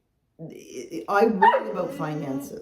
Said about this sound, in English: Sorry, that's our dog.